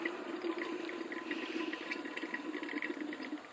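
Liquid pours steadily into the diesel exhaust fluid tank of a BMW 335d, a continuous bubbling, gurgling flow that stays even and close for several seconds with no talking.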